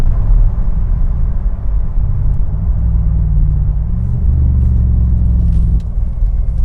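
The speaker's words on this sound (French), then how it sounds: "Là je viens de passer la 6e vitesse, 1600 tours minute, on cruise à 100 à l'heure." A 2016 Morgan Aero 8 Roadster cruises in sixth gear at about 1600 rpm and 100 km/h. A steady, low engine rumble and road drone sit close and loud, with a slight swell midway and no talk.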